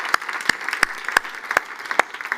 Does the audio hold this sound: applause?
yes